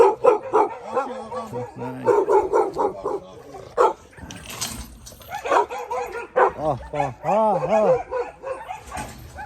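Several dogs bark and yip in quick, close bursts outdoors near a plot of land, the barking frequent and uneven with brief pauses, while people talk intermittently alongside.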